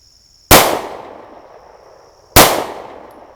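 Two loud gunshots from a Taurus G2S pistol at a shooting range, spaced about two seconds apart, each a sharp crack with a short echoing decay over a faint steady hum.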